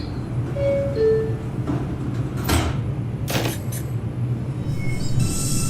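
A New York City Subway R142 train running in the OpenBVE train simulator game: a steady low rumble of wheels and motors, with a couple of brief metallic clanks and hisses and a faint high squeal near the end.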